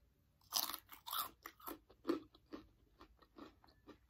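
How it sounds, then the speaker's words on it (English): Crunchy Panda Express cream cheese rangoons being bitten and chewed up close, a series of loud crisp crunches in an uneven rhythm, with no talking. "You hear that crunch?"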